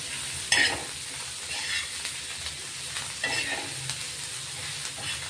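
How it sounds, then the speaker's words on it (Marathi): Coriander being sautéed in oil with tomato, a soft steady sizzle with a few brief louder stirring scrapes and clinks, close but fairly quiet, no voices. "कोथिंबीर टाकतोय, त्याच्या तेलातच परतून घेऊ"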